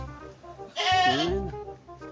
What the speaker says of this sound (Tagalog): Guys, pagpasensya nyo na nga pala yung ingay ng kambing namin.